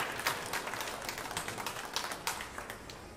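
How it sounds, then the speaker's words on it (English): Scattered, fairly light applause from a thinning late-night crowd at a women's 10-ball pool match at the Ho-Chunk Gaming venue in Baraboo, Wisconsin, with irregular claps heard at a distance. "Appreciative crowd."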